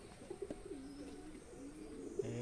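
Pigeon cooing near wooden stairs at home, a few soft, low, rolling coos repeated in a gentle rhythm, faint and close against quiet background.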